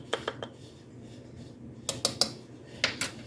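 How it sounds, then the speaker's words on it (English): A spoon stirs turkey bacon breakfast chili in a pot, giving a few quick clinks and scrapes in two short bursts over a low, steady room hum. "So let's stir this around"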